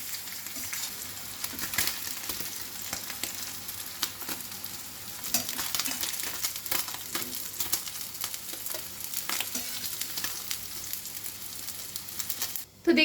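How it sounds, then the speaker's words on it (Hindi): Chicken shallow frying in oil in a pan, a steady close sizzle with crackling pops and occasional stirring throughout, no talking. "बस उतना ही हम चिकन को यहाँ पे फ्राई करेंगे,"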